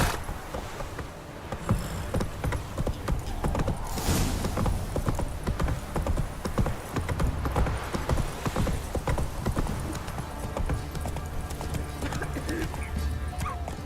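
A horse gallops in The Witcher 3, its hooves clip-clopping steadily and fairly close throughout, with occasional creaks of tack and a brief snort or whinny over a quiet game backdrop.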